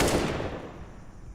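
Gunfire from a Counter-Strike match during a professional tournament round, a burst of shots up front that thins into scattered, echoing reports and low rumble.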